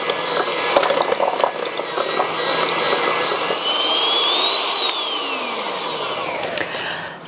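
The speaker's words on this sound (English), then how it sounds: "I need to beat this to get it all nice and soft. So I'm starting off on a low speed so the icing sugar doesn't fly out of the bowl." An electric mixer beats butter and icing sugar on low speed, giving a steady, even motor whir that holds for several seconds while a faint tone slowly rises and falls in pitch.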